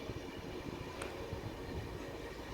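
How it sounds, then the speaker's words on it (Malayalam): Train moving through Karunagappally railway station in Kollam district, Kerala; a steady low rumble heard from aboard, faint and continuous, with a brief higher squeal partway through. "ട്രെയിൻ അങ്ങനെ നീങ്ങുകയാണ്"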